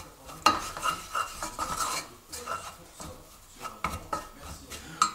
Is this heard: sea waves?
no